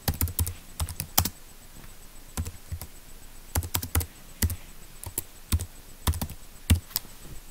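Computer keyboard keys tapped in short irregular bursts of clicks with brief pauses between groups, close and clear with no voices.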